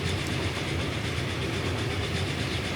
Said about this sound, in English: this is going to be essentially the maximum length of a commuter train